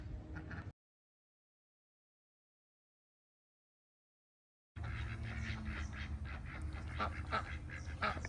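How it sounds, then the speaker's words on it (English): Ducks quacking outdoors at a beach or park, a busy chorus of calls at moderate distance over steady outdoor noise, starting after a short burst of sound and a long silent gap. "watching the ducks. Can you hear them? They're super talkative today."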